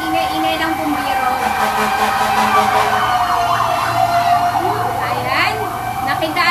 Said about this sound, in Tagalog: Sorry po, malapit po kasi kami sa highway, kaya ayan, ang ingay-ingay ng bumbiro.